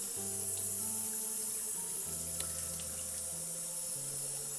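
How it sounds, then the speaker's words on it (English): Stop bath from black-and-white film developing is poured down a sink drain with a steady rush of running liquid that lasts throughout, while faint tonal music plays underneath. "Let's pour the stop bath down the drain."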